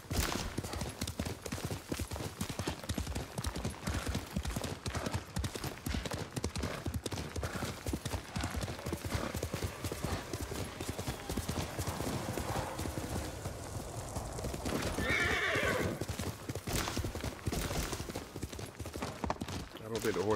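Horse hooves clip-clop in a rapid galloping rhythm throughout a Ghost of Tsushima play session, fairly quiet and steady, with a brief whinny and a player talking over it.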